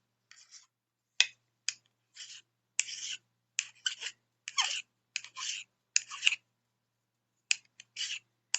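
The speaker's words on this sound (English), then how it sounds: "It doesn't take much filing because that little nib is small" Short, light rasping strokes of a small file on a tiny silver nib of a fine silver hoop earring, coming in quick bursts with brief silences between them, close up and quiet, with no voices.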